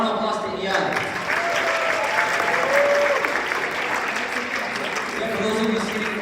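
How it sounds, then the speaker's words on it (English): An audience at a campus culture night bursts into sustained applause and clapping, a dense crowd sound lasting several seconds with some voices mixed in. "everybody give a round of applause to Iyad."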